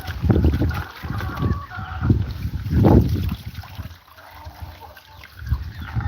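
A hen clucks in low, throaty bursts close by, against a steady background rumble, with a few sharper calls and a quieter stretch near the end.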